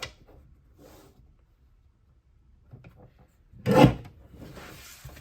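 A paper trimmer slices through stacked cardstock pieces in one short, loud scraping swipe, with faint rubbing and handling noises of the paper before it.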